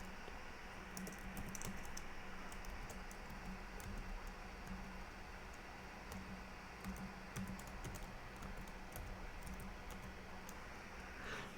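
Keyboard typing while streaming on a computer: quiet, fairly steady clicking keystrokes buried in a loud constant broadband hiss, continuing through the whole stretch with no voice.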